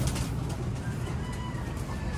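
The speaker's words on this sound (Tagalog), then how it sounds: "Ito yung ating mga ibon" Racing pigeons back from a training toss give soft cooing calls outdoors, low and steady against a dull background hum.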